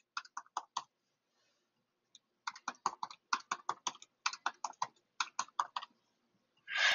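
Someone types a password on a computer keyboard, quick bursts of crisp key clicks in short runs with a pause in between, close and clear, ending in a brief soft noise.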